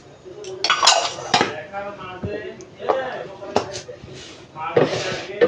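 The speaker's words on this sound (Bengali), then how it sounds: "প্রথমে এখানে সুজি আর চিনিটা মিক্স করে নেব।" Semolina and sugar mixed in a bowl for a mango cake, with spoon clinks, scrapes and clatter against the bowl coming in bursts while someone talks over it.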